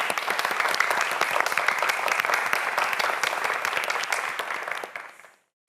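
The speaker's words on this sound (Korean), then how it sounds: "다시 한번 큰 박수 부탁드립니다" A studio audience at a televised quiz show claps steadily in sustained applause for about five seconds, then it fades and cuts off abruptly.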